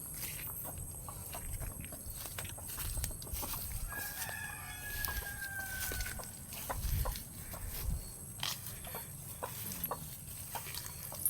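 Chickens and a rooster on a small chicken farm, with a rooster crowing clearly in the middle and scattered clucks around it, all heard at a moderate distance over a faint outdoor background with no talking.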